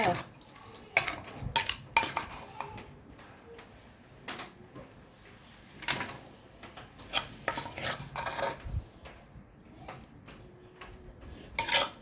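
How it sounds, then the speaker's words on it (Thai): A spoon scrapes and clinks as Thai som tam salad with freshwater crab is scooped onto a plate, with intermittent close rasping scrapes and sharp taps of utensil against dish, fairly quiet overall. "ขอลงจานก่อนนะคะ ใส่จานเลยนะคะ"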